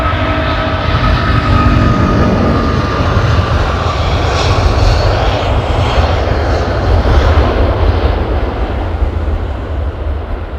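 Air China Boeing 747-8i jet taking off at an airfield, a loud, steady roar of engines holding for the whole stretch with no talk over it.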